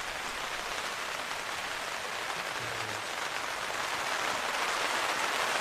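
Steady rain patters onto tarps stretched over a dinosaur excavation site, a dense, even hiss that fills the whole stretch with no talking.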